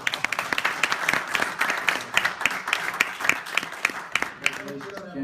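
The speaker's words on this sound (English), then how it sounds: "I think a round of applause is in" A round of applause at a Brookline town meeting after a unanimous vote, with scattered, moderately loud hand claps and a fairly small crowd. Speech overlaps the clapping, and the applause thins out toward the end.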